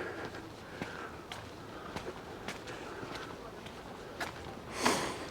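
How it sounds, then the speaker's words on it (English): A person with a sniffle sniffs repeatedly, several short nasal intakes spaced irregularly and fairly faint, ending with a louder, breathier snort near the end. "Got a bit of a sniffle at the moment"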